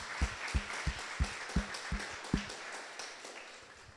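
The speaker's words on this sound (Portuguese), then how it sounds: "Vamos aplaudir aqui o seu Aldemir," A small group claps in sparse, evenly spaced claps for a couple married 45 years at a church service. About seven crisp claps sound, then they fade out quickly.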